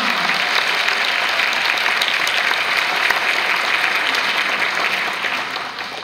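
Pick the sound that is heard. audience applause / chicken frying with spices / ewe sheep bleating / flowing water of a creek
audience applause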